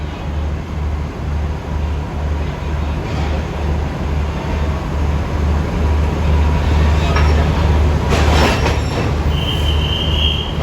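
A passenger carriage is coupled onto Thai train 86 at Surat Thani station, with a steady low rumble of idling rail equipment throughout and a brief burst of clanking metal near the end, under a voice speaking.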